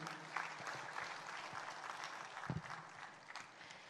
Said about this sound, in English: Can we hear a huge round of applause for all the award winners, please?